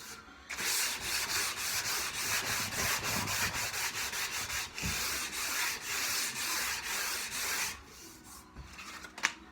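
Sandpaper rubs over wooden legs in quick, even back-and-forth strokes, close and steady, before a brief pause and a few final scrapes.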